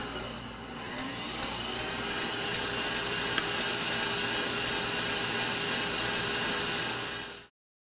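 An electric mixer whips egg whites as sugar is added at higher speed, a loud continuous motor whir holding steady for about seven seconds before cutting off abruptly; no talking.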